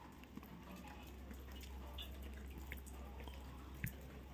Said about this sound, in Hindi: वर्षा होची